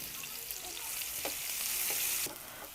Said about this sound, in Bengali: তো আমি কিছুক্ষণ এই পেঁয়াজটাকে নেড়েচেড়ে ভেজে নিয়েছি।